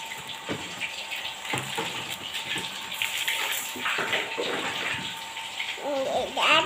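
Water gushes steadily into the washing tub of a Toshiba VH-H95MN twin-tub 9 kg washing machine over clothes, a continuous close rushing and splashing.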